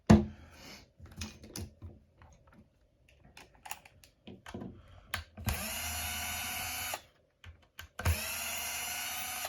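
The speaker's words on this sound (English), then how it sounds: "Obviously, a drill makes all the difference. Just so you guys can see it, I'm using a DeWalt DCF 610." A DeWalt DCF610 cordless drill drives screws into a Traxxas LCG RC car chassis in two long steady whirring bursts, preceded by scattered small clicks and handling taps, close and loud.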